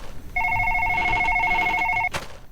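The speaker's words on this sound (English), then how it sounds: "Nothing suspicious except for the phone ringing." A telephone rings in the horror game The Way Home, a steady electronic trill that repeats evenly for about two seconds at a clear, moderate level before it cuts off with a click.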